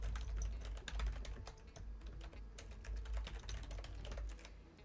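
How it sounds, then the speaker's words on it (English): Rapid, close clatter of keys being typed on a computer keyboard sitting right behind a budget microphone, steady and uninterrupted with no talk. "let me quickly type on the keyboard so you can see what it sounds like"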